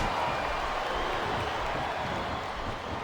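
A wrestling arena crowd in the WWE SmackDown vs Raw 2007 video game produces a steady wash of cheering and crowd noise, a dense broadband roar holding at an even level throughout.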